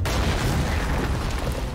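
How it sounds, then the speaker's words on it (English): A heavy in-game explosion in a GTA 5 Online heist blasts through the wall of a money room: one loud, deep, rumbling boom that roars through the whole stretch and then slowly fades, with no talk over it. "They have blasted the wall of money room."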